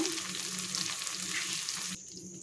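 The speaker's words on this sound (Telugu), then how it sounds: "ఇప్పుడు మనం పుదీనా ఆకు వేయించుకుందామండి" Mint leaves sizzle and crackle in hot oil in a pan, a dense, bright frying hiss that drops suddenly to a quieter sizzle near the end.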